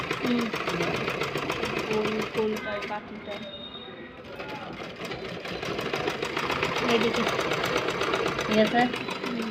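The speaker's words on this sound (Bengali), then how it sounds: "আবার আরেকটা সেলাই দিচ্ছি যেভাবে দিয়েছিলাম" A sewing machine stitching a blouse runs in a fast, steady mechanical whir with a rapid needle beat, pausing briefly midway before starting again, while a voice talks faintly underneath.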